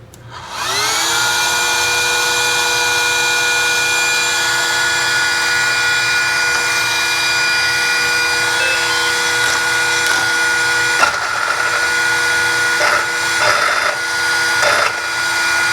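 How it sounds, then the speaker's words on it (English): A 2400KV brushless motor in an ARRMA Limitless RC car powers up for the first time, producing a loud sustained electric whine with steady harmonic tones and occasional clicks and bumps, no voices. "very first power up with that motor"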